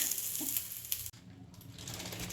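Leftover-rice thalipattu frying in oil on a pan, a steady close hiss of sizzling with a brief clunk midway before the soft frying continues.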